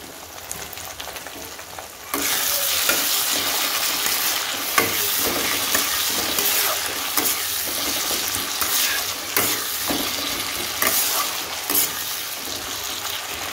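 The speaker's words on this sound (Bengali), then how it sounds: "এবার দেব পেস্টটা দিয়েও ভালো করে আমি কষিয়ে নেব" Grated ginger-garlic paste and tomato hit hot oil for tadka dal, bursting into a loud sustained sizzle after two quiet seconds, with occasional stirring scrapes and no speech.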